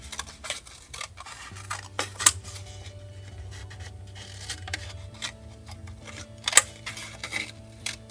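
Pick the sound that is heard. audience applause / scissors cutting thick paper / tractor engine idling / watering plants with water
scissors cutting thick paper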